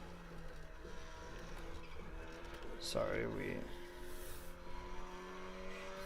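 A racing car engine hums steadily in the background while a person talks over it, with a brief louder burst partway through.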